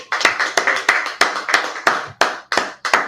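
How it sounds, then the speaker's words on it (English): A class claps hands together in a steady, evenly spaced rhythm, about ten sharp loud claps landing in unison, close and clear with nothing else behind them. "Clap it up."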